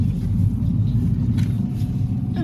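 A 2010 Ford Ka Titanium with a replacement engine drives along, giving a steady low rumble of road and engine noise that stays smooth and fairly quiet throughout, with no voices.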